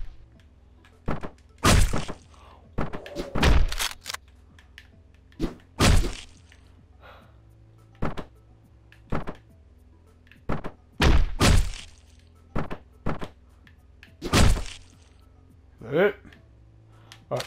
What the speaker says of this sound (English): That was the fire axe. He had it.